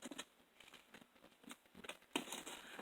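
Scissors snip and crinkle through book pages being cut away from a binding, a quiet series of short irregular crunches with a sharper louder cut near the end.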